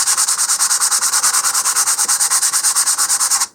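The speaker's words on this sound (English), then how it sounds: "I'm starting with some 100 grit sandpaper here on just a wooden sanding block" 100-grit sandpaper on a wooden sanding block rubbing along the grain of wood for a model rocket, loud, close, brisk back-and-forth strokes in an even rapid rhythm, with no speech.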